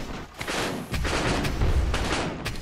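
Bombs drop from airships and guns fire in the game Airships: Conquer the Skies, a dense, loud wall of overlapping booms and rapid shots, close and continuous with no pause.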